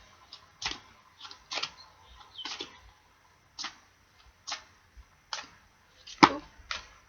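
Someone shuffles a deck of angel cards in short separate bursts, crisp riffling clicks and snaps coming in uneven clusters with quiet gaps between them, close and fairly faint, with no voice.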